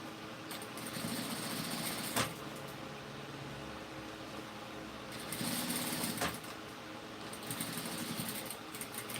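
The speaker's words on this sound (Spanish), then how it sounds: "Con este pequeño detalle que le estamos generando con la máquina plana" Flat sewing machine stitching fabric while sewing a crop top, a steady close mechanical whir running throughout, briefly pausing and restarting twice, with no talking.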